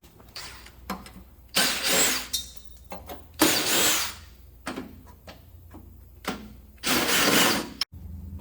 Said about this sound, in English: We're going to take this back cover off.